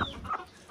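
An old black hen, one that no longer lays eggs, gives a short, close cluck. It is a single brief call over faint background noise.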